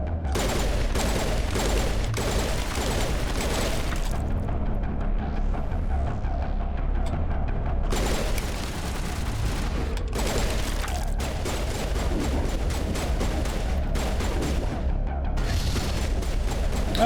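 Grenade blasts and bursts of gunfire from the Mass Effect video game, loud and dense with repeated crackling volleys and booms through most of the stretch, a brief lull in the middle before the firing resumes.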